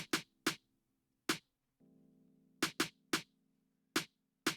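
Snare hits from an EDM/trap beat: several sharp, bright strikes in an uneven pattern, with a brief low humming tone in the middle, faint and isolated without talk.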